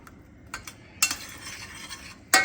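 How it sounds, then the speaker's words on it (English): A spoon scrapes through rum ball mixture in a pot on the stove over a high flame, giving short intermittent scrapes and one longer stretch of stirring, close and moderately loud. "we're going to keep stirring this on a high heat with the flame on"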